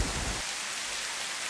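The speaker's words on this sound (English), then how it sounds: "we immediately had to find shelter for the incoming rainstorm. It started to rain, rain," A rainstorm over the river IJssel, a dense steady hiss of rain falling on water and surfaces, close and continuous, with a brief low rumble at the very start.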